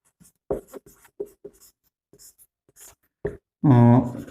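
Pen or marker scratching out a linear equation in two variables on a board or page, a series of short, separated strokes with pauses between, followed by a louder sustained tone at the end.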